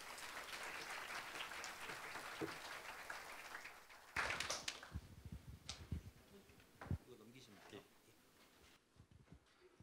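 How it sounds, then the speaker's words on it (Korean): At a gathering for newly qualified insurance claims adjusters, an audience claps softly and steadily for several seconds before the applause thins out into scattered claps, shuffling and a voice. "심찬 박수와 환호로 맞아주시면 감사하겠습니다"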